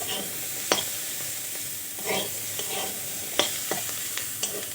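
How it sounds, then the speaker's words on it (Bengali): Green peas fry in a pan with a steady close sizzle, broken by several sharp scrapes and clacks as they are stirred at uneven intervals. "আমি মানে দুই তিন মিনিট খুব ভালো করে মটরশুঁটিগুলো ভাজা ভাজা করে নিয়েছি"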